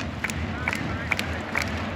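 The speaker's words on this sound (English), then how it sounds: "The crowd is getting more and more active here." A crowd in a Finnish hockey arena roars steadily during a game, a dense wash of cheering and yelling with rhythmic shouts rising every half second or so.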